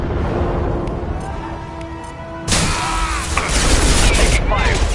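Combat gunfire in the video game Mass Effect 2, a loud burst of weapon fire and impacts erupting halfway through after quieter tones and background noise, continuing as a dense, crackling barrage.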